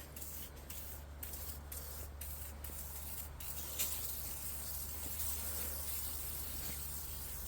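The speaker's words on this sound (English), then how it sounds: "I'm going to spray some in the chute" A steady hissing spray from a WD-40 aerosol can into the chute of a Troy-Bilt Storm 2840 snowblower, continuous and fairly quiet, with faint scraping and shuffling around it.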